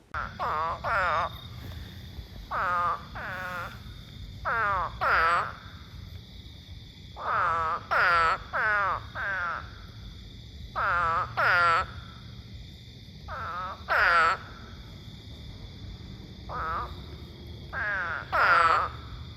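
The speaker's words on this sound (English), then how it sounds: "So it's like a trilling type noise. These are definitely have a unique call." An eastern spadefoot toad calls in repeated short trilling bursts, each a rapid pulsing warble, coming in irregular groups close by against a low background hum.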